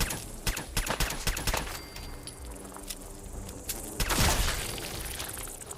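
Rapid bursts of gunfire from a gun in the Fallout 4 video game, several sharp volleys packed into the first two seconds, followed by a lower rumbling stretch and a louder blast near the end, with no voices.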